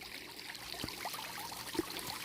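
Water runs and trickles steadily through a vintage Keene gold dredge, a soft continuous wash with a few sharp splashes standing out.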